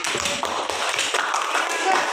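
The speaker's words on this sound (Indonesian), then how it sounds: "Oke, tepuk tangan untuk semuanya." A classroom of students claps together, a quick burst of many hands slapping in dense, uneven rhythm, with a voice talking faintly beneath.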